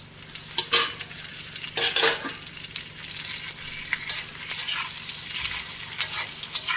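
Tomatoes hitting a pan of lightly fried onions on a full gas flame for a fish-head mung dal, giving a steady close sizzle with a few louder bursts of stirring and scraping, no voices.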